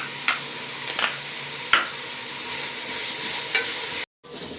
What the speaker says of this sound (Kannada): ಇವಾಗ ಇದು ಕೂಡ ಹಸಿ ವಾಸನೆ ಹೋಗೋವರೆಗೂ ಫ್ರೈ ಮಾಡ್ಕೋಬೇಕು